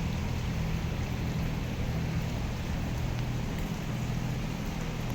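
Steady rain hisses continuously at a New Delhi hotel, a dense even wash with a low rumbling undertone and no speech.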